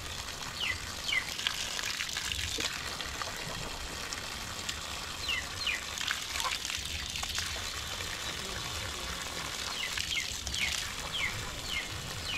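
Fresh water running from a hose near a waterfall, a steady soft trickle and splash with faint birdsong throughout.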